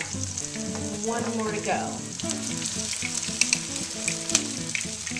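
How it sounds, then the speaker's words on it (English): Potato latkes frying in a pan of hot oil give a steady, close crackling sizzle with sharp pops throughout, while a voice briefly speaks over it. "it's a lot of frying, a lot of hot oil"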